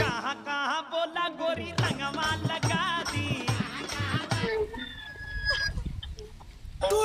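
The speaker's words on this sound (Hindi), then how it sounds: "कोई मुर्गा बोला था" Chicken and rooster clucking and crowing, a series of rhythmic calls in the first half giving way to quieter background noise, moderately close with no clear talk.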